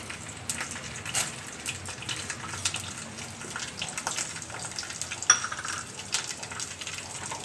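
Chana dal frying in hot oil for an amaranthus leaf curry, a soft, steady sizzle with light crackles and a few small pops close by, with no talking.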